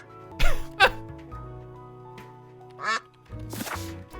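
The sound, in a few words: duck quack from the video game Duck Detective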